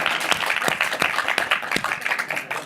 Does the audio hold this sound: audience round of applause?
yes